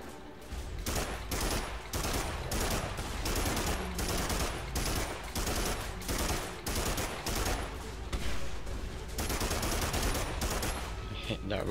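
Sustained rapid gunfire fills the Primal Carnage video game, a dense, continuous stream of automatic shots with brief pauses, loud and close throughout, with a voice speaking faintly underneath.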